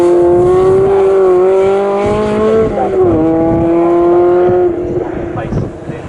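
Lotus Elise race cars scream past at Snetterton circuit with a loud, sustained high engine note that bends as they go through the gears, and the revs fall away near the end, under a commentator's voice.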